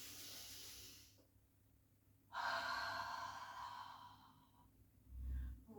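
Deep breaths are drawn in slowly during a guided breathing exercise, a long airy hiss that swells and fades, with a softer exhale and a low thump near the end.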